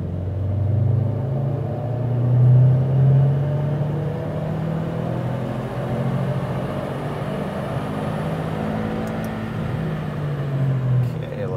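A tuned Subaru car engine pulls through a third-gear run on a dyno, a loud, close, continuous low droning rumble that rises gradually in pitch for about eleven seconds without a break.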